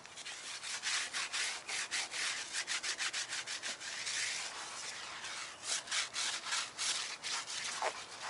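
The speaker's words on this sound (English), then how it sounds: "I'm going to go grab my tire brush." A stiff tire brush scrubs the tire of a 1969 Camaro Z28 Pro Touring during a foam wash, giving rapid rhythmic bristle strokes that pause briefly midway, fairly close and steady.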